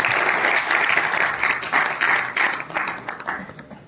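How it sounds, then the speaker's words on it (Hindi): Audience at a Rotaract youth leadership awards event giving loud applause, a full crowd clapping steadily that thins slightly and becomes more scattered near the end. "सो एक बार इनके लिए जोरदार तालियां दोगे"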